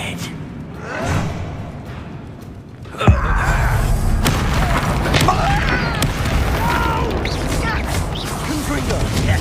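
A Confringo blasting spell going off in Hogwarts Legacy, a sudden loud thump-like blast followed by a sustained rumbling crackle, with a voice speaking over the start.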